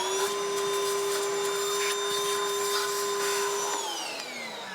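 A shop vacuum cleaner drones steadily up close while cleaning out a turbo exhaust manifold, its whine holding constant before dropping in pitch as it winds down near the end.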